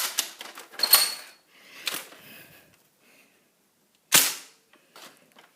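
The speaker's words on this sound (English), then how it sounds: "So now let's do some angled shots." Nerf N-Strike Raider CS-35 blaster firing angled shots, several sharp pops and clacks scattered over a few seconds with quiet gaps between them, close to the microphone.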